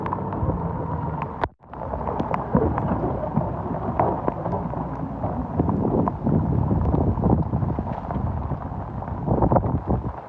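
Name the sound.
rain and thunder during a lightning storm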